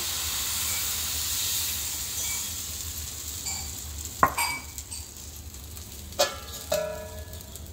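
Amboli rice batter poured onto a hot oiled pan in a Konkan home kitchen, giving a steady soft sizzle and hiss with a few sharper clinks and scrapes near the end, no talking.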